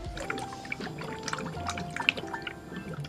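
Coolant gurgles and bubbles inside the cooling system of a BMW 335i as it self-bleeds, a close, irregular stream of small pops, drips and trickles with no talking.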